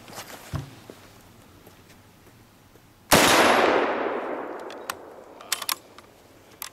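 A Browning T-Bolt .22 LR bolt-action rifle fires a single sharp shot at an outdoor range, its report ringing out and fading over a few seconds, with faint clicks and handling noises before and after.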